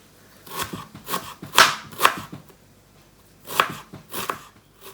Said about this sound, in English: So I've just cut halfway through so that I can cut it nice and fine.